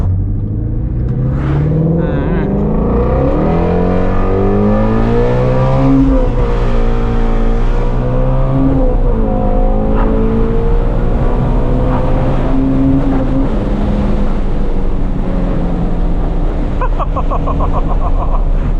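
A Ford Mustang GT350R engine, loud and close, revs and pulls through the gears in a continuous roar, rising and falling in pitch with each throttle change, with no voices over it.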